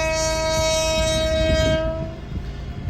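A train passes a railway level-crossing gate near the Karnataka–Maharashtra border, its loud horn blaring steadily close by over rumbling wheels before the horn cuts off and the rolling clatter continues.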